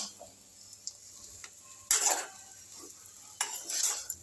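A spatula scrapes and stirs chapati noodles around a pan over medium flame, with two bursts of loud scraping and a soft sizzle between them.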